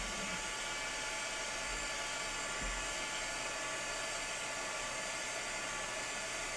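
A heat tool for melting embossing powder runs with a steady, even blowing whoosh and hum, constant throughout and heard on its own.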